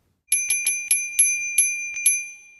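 A bicycle bell rings in a quick series of bright metallic dings, about eight strikes with short pauses, close and clear with no other sounds.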